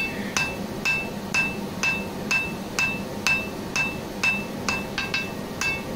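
A hammer strikes an iron bar on an anvil, shaping an Iron Age double-edged dagger, with about a dozen evenly spaced, bright ringing blows over a steady background hum.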